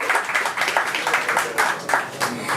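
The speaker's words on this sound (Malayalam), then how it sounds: "ഇവർക്ക് മൂന്ന് പേർക്കും നമുക്ക് ഹൃദയം നിറഞ്ഞ ഒരു കയ്യടി കൊടുക്കാം" An audience claps in a dense, sustained round of applause at a celebration of the Malayalam film Neru, honouring its makers Antony, Jeethu and Lal, the claps steady and fairly close with no speech over them.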